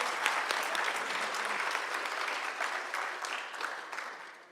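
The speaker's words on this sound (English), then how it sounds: "You can clap for the staff." An audience at an annual organisational meeting applauds for the staff, giving a sustained round of clapping that holds steady and then slowly tapers toward the end.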